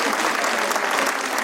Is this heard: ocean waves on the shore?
no